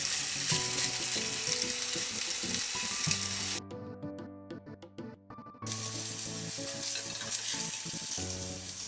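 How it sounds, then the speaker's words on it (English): Meat sizzles and fries in a heated cast iron grill pan for a Turkish cokertme kebab, a loud steady crackle that drops away briefly mid-way before returning at full strength. "Add the meat to the cast iron pan with heated grill."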